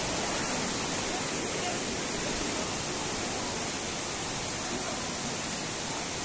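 Namaste Jharna waterfall roars as a steady, broad wash of rushing water, loud and close and unbroken, with someone talking faintly beneath it.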